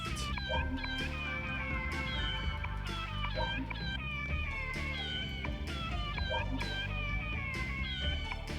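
Repeated cat meows from the video game Persona 2: Eternal Punishment come in a steady rhythmic loop, roughly one every second or so, over a continuous music bed.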